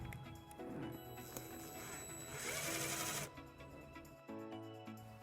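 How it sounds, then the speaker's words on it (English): A power drill driving a self-tapping screw into the metal body of a 2012 Jeep Compass, a faint whirring buzz rising to a brief higher-pitched grind, then stopping and restarting in short bursts. "We're going to attach this to the body of the vehicle using our provided self-tapping screw."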